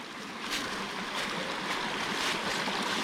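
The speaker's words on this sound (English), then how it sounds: "it's our first creek crossing." Continuous rushing water, a broad steady hiss of a flowing mountain creek at a trail crossing nearby, with faint surging swells and no voices.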